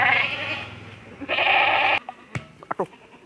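A goat bleats in several loud, drawn-out calls nearby, followed by scattered rustling and thumps as it resists walking.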